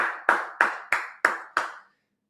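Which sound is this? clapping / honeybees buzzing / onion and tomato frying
clapping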